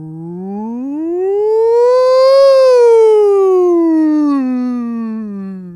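A single voice imitates a police siren, starting low, sweeping up to a held peak and gliding back down in one smooth, loud, close wail.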